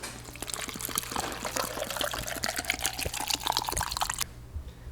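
Water pours steadily into a jar for pickling brine, a bright splashing gurgle running for about four seconds and then stopping abruptly, leaving a faint low hum.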